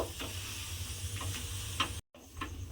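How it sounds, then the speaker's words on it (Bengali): Paratha frying in a little oil in a pan, pressed so it puffs and turned until reddish: a steady close sizzle with soft scattered ticks and pops, a brief dropout near the end. "অল্প অল্প তেল দিয়ে, সেভাবেই কিন্তু পরোটাটা ভেজে নিতে হবে।"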